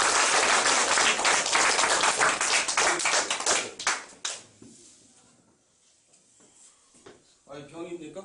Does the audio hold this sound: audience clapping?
yes